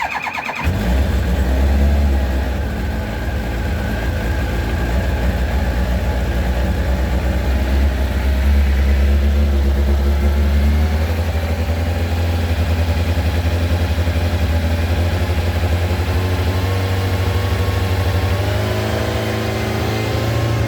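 A 1994 Kawasaki ZX-9R B1 first-generation motorcycle fires up from cold and settles into a steady, loud, close idle with a deep throb, no voices.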